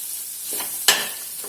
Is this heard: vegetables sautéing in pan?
yes